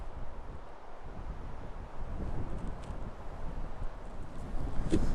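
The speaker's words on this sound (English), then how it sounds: "a little bit windy today" Wind gusts across an open wildlife garden, a steady rushing roar with mic buffeting that swells and dips over several seconds.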